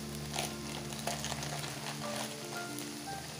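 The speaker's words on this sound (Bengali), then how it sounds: "এভাবে আস্তে আস্তে নেড়ে চিকেনটাকে রান্না করতে হবে।" Chicken frying with chili flakes in a pan for spring roll filling, a soft, continuous sizzle with occasional light stirring scrapes, close and fairly quiet, with no speech.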